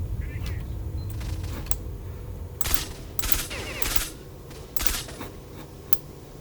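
Several bursts of automatic gunfire in the shooter game Stalker: Shadow of Chernobyl, sharp rattling volleys spaced a second or so apart over a steady low game ambience.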